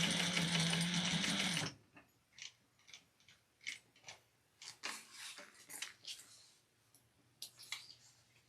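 A sewing machine stitches crossbody bag fabric in a loud steady run for almost two seconds, then gives way to faint scattered clicks and mechanical handling sounds up close.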